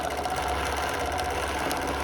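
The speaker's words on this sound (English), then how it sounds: "And sew to the seam." A sewing machine runs steadily while stitching a quilt seam, a close, even, fast mechanical hum with a rhythmic needle chatter and no pauses.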